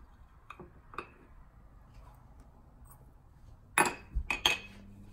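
A spoon scoops dry grain-free hot cereal into bowls, a few faint taps early on, then a cluster of louder clinks and scrapes against the dishes.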